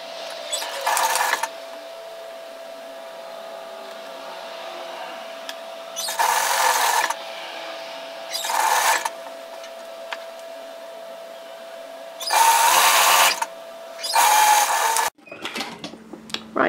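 Sewing machine stitching the second side seam of a flutter-sleeve top: several short whirring bursts of stitching separated by pauses over a faint steady hum, close and alone, ending with some handling clatter.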